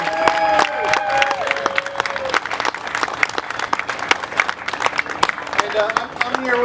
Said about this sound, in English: let's give a big round of applause for all of our volunteers who are working here today